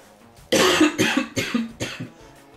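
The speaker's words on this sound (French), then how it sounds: "Excusez-moi, je tousse." Several harsh coughs in quick succession, close and loud, with brief pauses between bursts and no talking.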